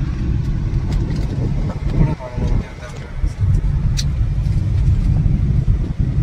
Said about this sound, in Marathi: विजय चालवतोय कार